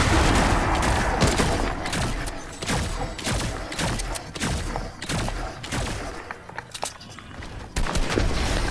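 Bursts of assault rifle fire from a blue heavy AR in Fortnite on PS5, many rapid shots in dense fusillade clusters, loud and close, with other gunfire and footsteps around.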